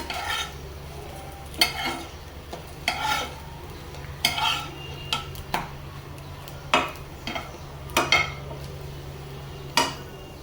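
Meat stir-fried (kosha) in a pan, with a spatula scraping and knocking against the metal in irregular strokes about once a second over a low steady sizzle, close and moderately loud, no talking.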